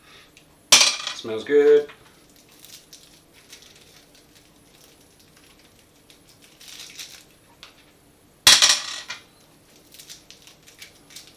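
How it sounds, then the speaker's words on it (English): Hard boiled menthol sweets rattle and clatter into a metal pan in two quick bursts, with faint scattered clinks between them and a brief spoken remark. "I'm going to go through and empty each one of these sweets into that pan"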